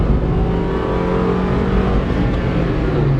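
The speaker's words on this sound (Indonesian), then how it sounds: "ini saya akan coba langsung injak gas dalam ya" A 2018 Toyota Avanza G automatic accelerating at full throttle, a loud, steady engine roar heard from inside the car, rising slightly in pitch as it pulls.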